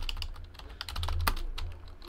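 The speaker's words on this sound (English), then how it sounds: "I should finish typing out that title." Steady clatter of rapid typing on a computer keyboard, close and continuous, with dense clicks of keystrokes over a low background hum and no talking.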